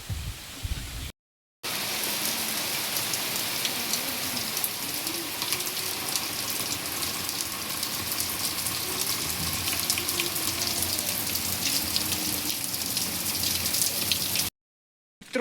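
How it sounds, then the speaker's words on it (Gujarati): Heavy monsoon rain pours down in the Ghed region in the evening, a dense, continuous hiss of falling water and splashing drops that stays loud and steady throughout, with no voices. "ફૂલ વરસાદી માહોલ છે"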